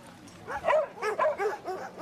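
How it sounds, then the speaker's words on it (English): A dog in a waterside scene from the 2004 film Oyster Farmer barks and yips in a quick run of close, excited bursts, with whimpering notes between them and no speech. "He's my dog. He listens to me."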